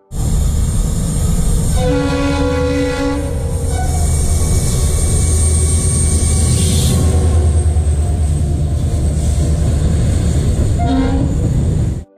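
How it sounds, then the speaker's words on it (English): A loud double-headed DG4 freight train hauling old empty car carriers rumbles past close by, wheels clattering steadily, with horn blasts sounding near the start and again near the end. "A double DG4 old empty car carrier rake overtook us in some style."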